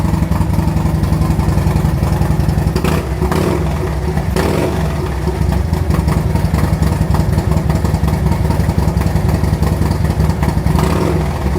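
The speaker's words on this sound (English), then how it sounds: "Zombie Baffles are very, very sharp, but that's still really loud." Harley-Davidson motorcycle fitted with Zombie Baffles in its exhaust runs loud and steady, a sharp, throaty rumble with a couple of brief revs partway through, close up with no talking.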